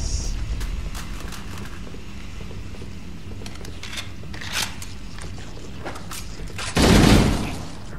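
Pistol fire in the first Halo game, heard as a series of sharp shots over steady low game ambience, ending in one loud, broad burst near the close.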